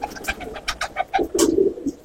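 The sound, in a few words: Rampuri pigeons cooing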